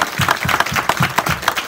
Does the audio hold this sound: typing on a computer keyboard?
no